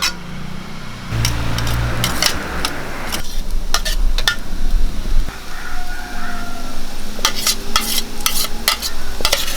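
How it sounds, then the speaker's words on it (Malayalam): Crushed coconut and green banana being stir-fried in a pan: a steady sizzle under repeated sharp scrapes and clinks of a spatula against the metal, close and continuous. "നമ്മൾ ചതച്ചെടുത്ത തേങ്ങയും ഒക്കെ ഇതിലേക്ക് ചേർത്ത് കൊടുക്കാം."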